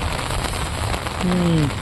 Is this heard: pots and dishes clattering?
no